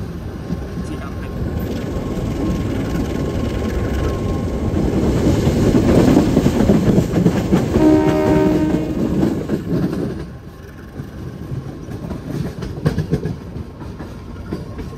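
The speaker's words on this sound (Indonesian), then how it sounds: "Kereta api Menoreh melintas langsung stasiun Cikampek." Menoreh passenger train running straight through Cikampek station without stopping, a loud sustained rumble of wheels and cars building and fading over several seconds, with a brief horn-like tone midway, heard up close on the platform.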